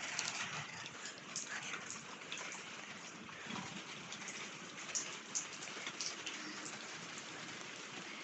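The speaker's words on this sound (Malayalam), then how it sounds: "നല്ല മഴയാണ്, നല്ല മഴ." Heavy rain pours in Oman as a dense, continuous hiss of drops striking surfaces nearby, with a few louder splashes and a possible distant dog bark.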